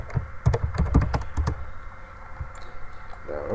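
A quick burst of keyboard keys clacks close by, several presses in rapid succession, then a few lighter taps as things quiet down.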